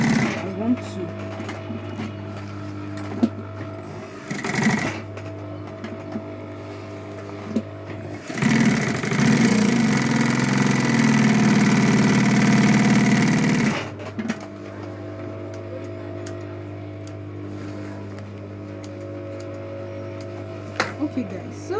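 A sewing machine stitching a tote bag runs in one loud, continuous whirring burst of about five seconds, framed by quieter stretches with a steady low hum where a person talks.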